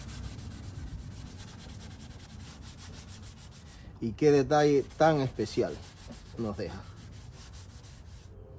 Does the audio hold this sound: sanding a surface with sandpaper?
yes